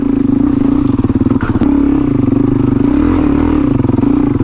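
Motorcycle loaded with luggage grinding up a slippery, rocky single trail on the New South Wales south coast, engine laboring steadily and close with a brief rev surge, continuous throughout.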